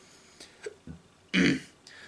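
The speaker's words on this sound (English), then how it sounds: "I'm in a bit of a burping mood today" A man lets out a single loud, close burp after a few small throaty sounds, with quiet room tone around it and no speech.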